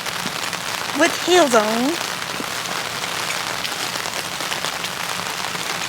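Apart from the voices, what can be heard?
rain falling while walking outside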